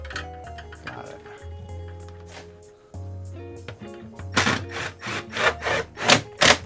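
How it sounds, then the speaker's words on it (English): A light-duty impact driver runs bolts into an RV in several short bursts of rapid hammering and whirring, close by and fairly quiet, with a louder, harsher run of impacts toward the end. "even though it sounds like this is a heavy duty impact"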